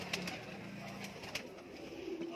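Teddy pigeons for sale in India coo softly in short, low repeated calls at close range, with a few brief sharp knocks and rustles around them; fairly quiet overall.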